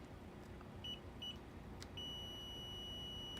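Multimeter continuity tester beeping while probing a bolt and ring: two short tones, then a steady sustained beep, clear over a low background hum.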